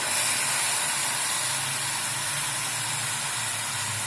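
Shredded cabbage (band gobhi) sizzles in a hot pan with a steady, even hiss that holds for the whole stretch and has no talking over it.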